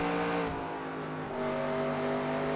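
Race car engine in the NR2002 racing game at Homestead, held at full throttle coming off turn four: a loud, steady, continuous engine drone with a slight pitch shift partway through, heard alone.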